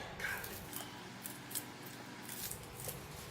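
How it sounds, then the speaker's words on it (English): Shallots are cut into small pieces for a prawn and petai stir fry paste, making a few soft, quiet snips over a steady background hiss, close up, with no speech. "I'm going to add in the shallots. Just cut it a little bit."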